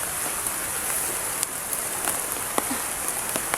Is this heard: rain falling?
yes